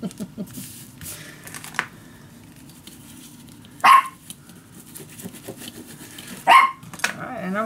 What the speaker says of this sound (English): as you can hear, the dogs are